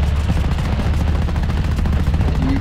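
Aircraft guns firing in a Call of Duty: Vanguard air mission over the Numa Numa Trail, a dense, continuous loud rattle of rapid fire layered over a low engine drone, steady throughout.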